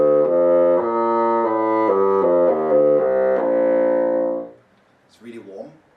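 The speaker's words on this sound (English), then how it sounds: "So the lowest octave" Bassoon playing through its lowest octave, a run of warm, reedy low notes ending in a long held tone, followed by a short pause and faint brief talk.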